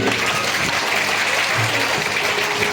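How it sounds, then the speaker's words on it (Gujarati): A crowd claps steadily at a village primary school enrollment celebration, with dense, continuous applause throughout a short burst. "ફરી એમને તાળીઓથી વધાવી દઈએ"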